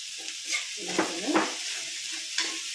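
Ivy gourd thoran with curry leaves and salt being stirred in a pan, with a soft sizzling hiss and a few louder scraping strokes close by.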